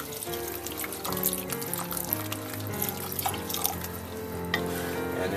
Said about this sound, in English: We're adding our chicken stock. And we want to add just a little at a time and stir.